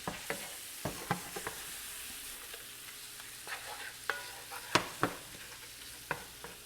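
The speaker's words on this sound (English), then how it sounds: "We're going to put it all in that meat. Mix it well, mix it all together." Spiced taco meat for street tacos frying in a pan as it is stirred and tossed, a constant low sizzle broken by repeated sharp scrapes and clacks of the utensil against the pan.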